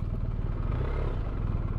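Several motorcycles gathered at Furadouro on a Sunday morning, engines idling and rumbling steadily nearby with a low, continuous mechanical clatter throughout.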